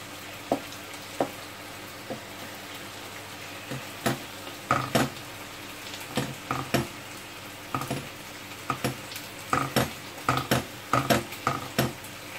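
Iranian chicken and minced meat kebabs frying in a pan over medium heat, a soft sizzle under scattered utensil clinks and taps that grow busier toward the end, close by and without voices.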